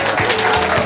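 Applause at a seniors' evening in a hotel hall, acknowledging the kitchen staff; dense, loud clapping fills the short stretch with steady broadband texture and a low voice murmur underneath.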